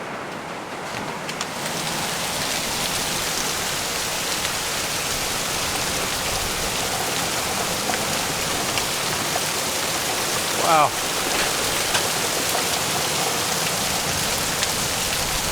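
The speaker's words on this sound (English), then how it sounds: "That sounds like hail on the roof. That is hail on the roof." Hail striking a roof, a dense steady roar of rapid pattering impacts throughout, loud and close, with a brief exclaiming voice at one point.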